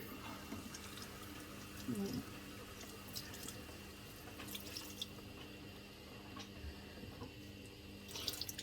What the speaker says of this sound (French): Je vais prendre un disque démaquillant que je vais mettre d'eau froide.